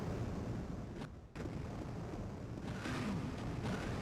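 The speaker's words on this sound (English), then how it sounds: "everything is blowing up" Explosions tear through a ship in the video game Duke Nukem Advance, a dense, continuous roar of booming blasts with a brief drop-out partway through before the rumbling barrage resumes at full loudness.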